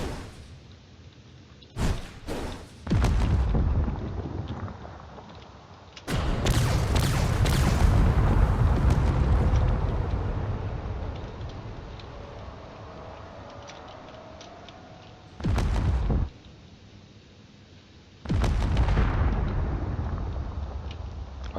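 Gunfire and explosions from the space combat game Drone Wars: sharp bursts and heavy booming blasts come in uneven clusters, with a long rumbling roar in the middle and quieter stretches between.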